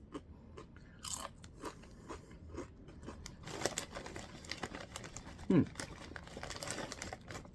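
Crunchy loaded taco Doritos chips are bitten and chewed close up in a quiet room, giving repeated dry crackling crunches with one especially loud bite near the end.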